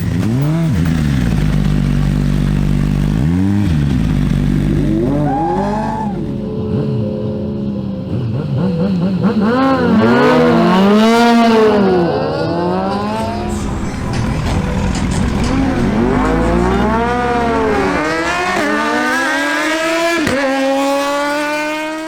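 A Suzuki GSX-R1000 motorcycle launches in a drag race, the engine screaming loudly up through a series of rising revs and sharp gear shifts, each climb dropping and building again over about twenty seconds.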